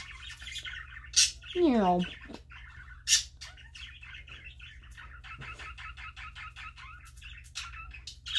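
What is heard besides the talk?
parakeet chirping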